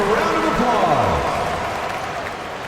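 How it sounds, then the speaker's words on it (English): Arena crowd applause in NBA 2K25, a broad, loud wash of clapping and cheering that tapers slightly over a few seconds, with voices mixed in. "Give yourself a round of applause."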